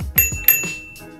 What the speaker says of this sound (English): On the left-hand side of the handlebars, there's a cute little bell